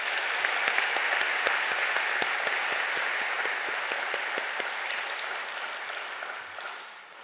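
A church congregation at a Korean revival meeting claps for a guest pastor. The dense, sustained applause is fairly even and gradually fades toward the end.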